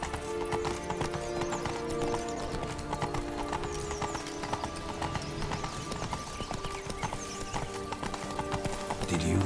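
Roach the horse trotting in The Witcher 3, steady clip-clop of hooves under continuous game music with a brief whinny, and voices speaking over the top.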